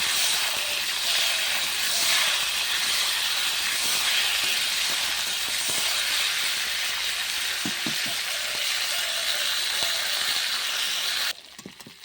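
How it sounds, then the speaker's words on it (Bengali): Cauliflower florets fry in hot oil in a pan over a clay stove, giving a steady, close, even sizzle that runs unbroken, with a few soft knocks late on before it cuts off abruptly. "ফুলকপিগুলো লাল করে ভেজে নেব"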